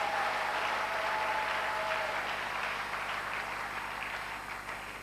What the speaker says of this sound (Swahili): Mpikie tena makofi Bwana.